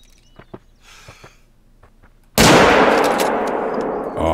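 A single loud, close rifle shot is fired at a bear in theHunter: Call of the Wild, with a long rolling echo after a quiet stretch of faint footsteps and rustling.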